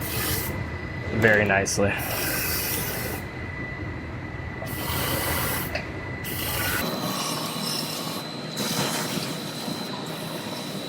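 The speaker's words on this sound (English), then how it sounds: "this sprays in a 360-degree pattern" Coating sprayed inside a truck frame through a nozzle that fires in a 360-degree pattern: a steady, close rushing hiss that runs throughout, with brief speech over it.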